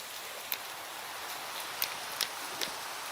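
Steady hissing rain falls in Minecraft, a broad even wash of sound with a few sharper drips and taps breaking through now and then.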